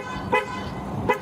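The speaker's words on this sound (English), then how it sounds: "I was following behind you honking the horn" A car horn gives two short honks about a second apart, loud and close over a steady low rumble of road noise.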